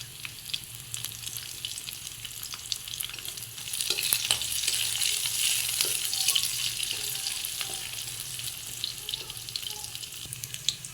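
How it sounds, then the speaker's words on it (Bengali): Onion, garlic and green chilli fry in a pan with a continuous crackling sizzle that swells louder partway through and stays busy and close. "দেখো পেঁয়াজ লঙ্কাটা ভাজা হয়ে গেছে"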